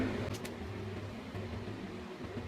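Steady broadband whir of a bathroom ventilation fan in a windowless room running continuously, close by, with a faint low hum and no voices.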